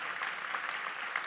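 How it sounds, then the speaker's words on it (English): Brief, fairly quiet audience applause at the close of a conference session, a steady even wash of clapping with no voices over it. "Please make a round of applause for them."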